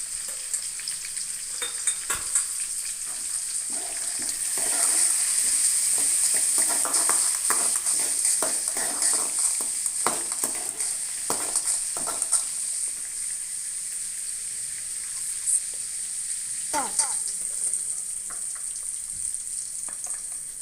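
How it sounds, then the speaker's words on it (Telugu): Chopped tomatoes and vegetables fry in a pan for upma, producing a steady loud sizzle throughout with occasional stirring scrapes and clinks of a utensil. "నెక్స్ట్ ఇంకా కట్ చేసి పెట్టుకున్న టమాటాలు వేయాలి."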